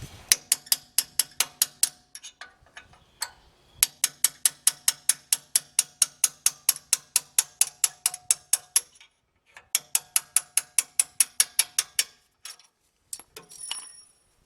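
A hand ratchet works the caliper bolts on a Ford Ranger front brake, giving fast, even clicking strokes in long runs broken by short pauses, close and crisp with no talk.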